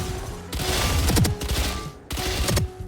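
The Spectre submachine gun fires in the shooter game Valorant, producing loud, dense bursts of rapid gunfire in two sustained volleys separated by a brief pause.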